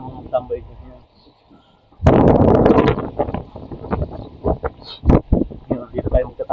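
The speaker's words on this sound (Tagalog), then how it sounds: "dito tayo magtatago kasi malakas ang hangin" Strong, icy wind gusts hard against the microphone outdoors, rushing in suddenly and buffeting loudly in uneven bursts while a person talks.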